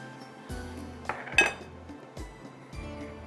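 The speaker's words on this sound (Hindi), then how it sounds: "सब चीज़ों को मिक्स करते हैं।" A spoon stirs a fish marinade of chili sauce and salt in a bowl, giving quiet scraping and a few light clinks against the dish, with one brighter clink in the middle of the mixing.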